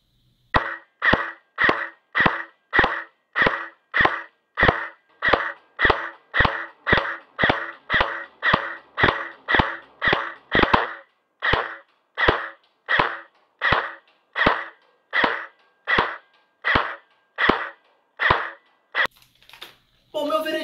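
A Cyma CM513 Silencer airsoft electric gun fires single shots at a target, about thirty sharp, evenly spaced cracks in a steady rhythm, each followed by a short mechanical whir, clear and close.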